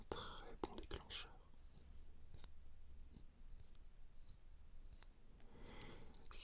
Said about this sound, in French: Je crois que la paire de ciseaux fera un très bon déclencheur.